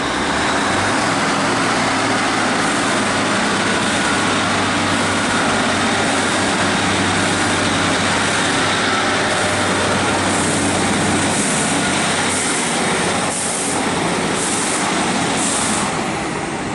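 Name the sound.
Northern class 150 diesel train 150147 departing Stockport station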